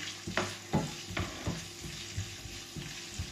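Ginger sizzles in a hot pan while a utensil stirs it for a Filipino chicken dish with coconut milk and peanut butter, with steady frying crackle and periodic scraping strokes up close.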